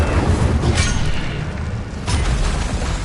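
Incendio fire spell cast in a Harry Potter video game, a loud whooshing, rumbling burst of flame with a second surge partway through over a constant dense roar.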